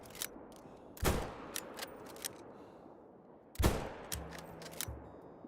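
A .22 rifle fired at a bear while hunting in the video game Call of the Wild, with two sharp, loud shots about two and a half seconds apart and quiet outdoor ambience between them.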